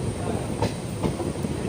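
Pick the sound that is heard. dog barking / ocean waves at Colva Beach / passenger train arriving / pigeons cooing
passenger train arriving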